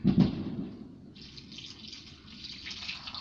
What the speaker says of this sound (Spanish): Estoy echando agua.